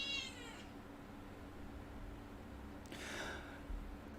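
A cat named Kitty meows twice, a short high call and then a longer, slightly fuller one a few seconds later, both close and fairly quiet over a low steady indoor hum.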